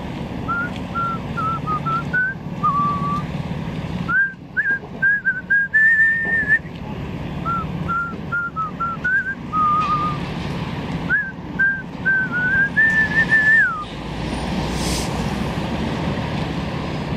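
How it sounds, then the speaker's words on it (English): A man walking along René-Lévesque Boulevard in downtown Montreal whistles an old school tune, a steady melodic line in short phrases lasting the whole stretch, over a constant low rumble of city traffic. "If you know what song that is that I was just whistling now"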